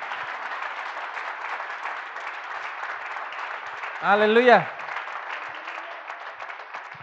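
A church congregation applauds loudly and steadily throughout, a broad wash of clapping that continues while a voice rises in a brief sung or shouted exclamation midway.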